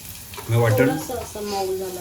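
Onions sizzle and fry in a pan while they brown, with a steady crackle under someone talking nearby.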